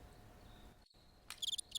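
A cricket chirps indoors in a studio, with a quiet hum at first and then bright pulsed chirp trills in two short bursts near the end.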